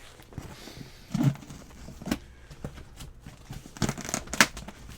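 A well-packed box being opened with scissors gives dry crinkling and tearing packaging noises in short bursts, close and fairly quiet, with a few louder snips and rips standing out.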